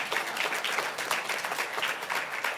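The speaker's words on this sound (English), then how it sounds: "please applaud." An audience at a school board meeting claps in a steady burst of applause, moderately loud and continuous, with no talking over it.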